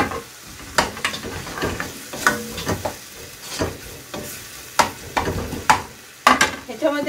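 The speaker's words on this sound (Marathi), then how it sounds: "आता आपण ह्याच्यातच कॉर्न पण टाकूया" Corn kernels hit a hot pan for red sauce cheese pasta, then a spoon scrapes and stirs in repeated sharp strokes over a steady frying sizzle, close and fairly loud, without talk.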